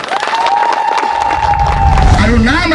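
An audience at an annual Ghoghar Kisan Samaj festival on an outdoor stage claps and cheers, a steady burst of applause with shouts over it and a voice speaking through it.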